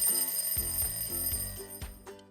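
A repeating electronic cooking timer alarm rings in steady pulses, fairly loud and close, with a few clatters near the end.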